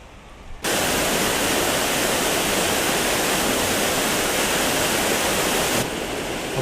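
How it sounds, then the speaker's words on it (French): The waterfall in Buttes Chaumont park, Paris, pours with a loud, steady, broadband roar that begins abruptly and holds evenly for several seconds before easing slightly. "Le bruit de fond, c'est la cascade."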